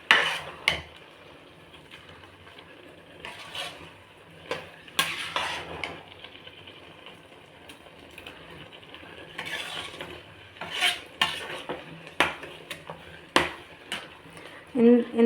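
Pumpkin halwa with milk and ghee stirred in a pan, a spoon scraping and knocking against the metal in irregular bursts over a soft simmer, with faint speech now and then.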